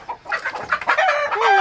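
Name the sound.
chickens clucking and rooster crowing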